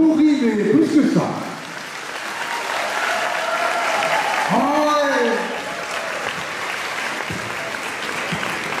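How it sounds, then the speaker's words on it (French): A concert audience applauds a folk song and dance ensemble at a festival, steady dense clapping sustained throughout, with an announcer's voice and some laughter over the start and middle. "Voici donc, avec un infini plaisir et beaucoup d'enthousiasme, l'ensemble Spotkani sous vos applaudissements."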